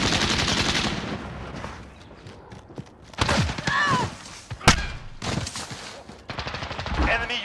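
Gunfire in Call of Duty Modern Warfare multiplayer, bursts of automatic shots and a sharp single crack among game noise, with spoken voices in between.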